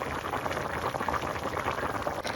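Tapioca and bones boiling in water in a covered pot, a steady close bubbling and gurgling that runs without a break for the whole stretch, with no voices.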